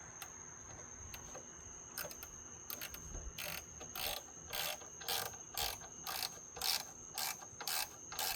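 A ratchet wrench clicks in steady repeated bursts as a bolt is tightened down into the wooden floorboards of a trailer, close but quiet, with no talk.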